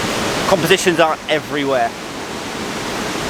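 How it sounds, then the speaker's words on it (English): The Ingleton waterfall swollen after heavy rain, a constant loud roaring rush of water that fills the whole scene, with someone speaking briefly over it. "Because of all the rain that we've had, it's flowing, it's really coming over the top, and like a raging torrent."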